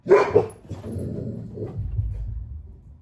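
Dogs bark a couple of times in quick succession, loud and close, followed by softer whimpering and rustling noise.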